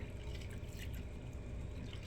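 Navy beans washed by hand in a bowl of water, a continuous soft sloshing and trickling of water nearby, faint and steady with no speech.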